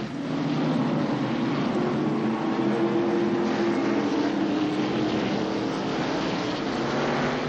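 NASCAR stock cars race at North Wilkesboro in 1994, a dense, steady engine roar from a pack of cars heard at a distance, filling the whole stretch without a break.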